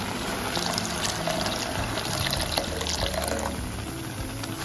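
Water poured steadily into a pot of thickened lentil dal cooked with drumsticks, a continuous close splashing pour lasting the whole stretch, with no talking.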